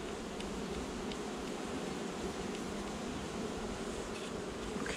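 Honey bees buzz around a home beehive in April, a steady, dense hum of many insects close by with faint rustling, continuous and unbroken throughout.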